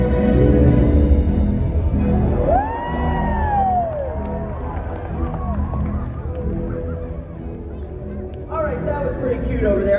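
Large audience at a SeaWorld Orlando whale show cheering and whooping together, a loud swelling roar that fades gradually with scattered children's shouts, water and arena ambience beneath.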